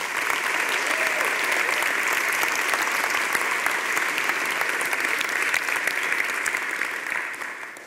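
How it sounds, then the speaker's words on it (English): Conference audience at a JavaScript event gives the organizers a round of applause, dense sustained clapping from a large crowd lasting about eight seconds before tapering slightly at the end. "could we just have a round of applause for them?"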